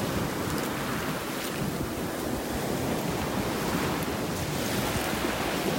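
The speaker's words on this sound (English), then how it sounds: "These waves have just washed out." Ocean waves wash onto a beach in North Naples, Florida, a continuous loud roar of surf mixed with wind buffeting the microphone, with no voices.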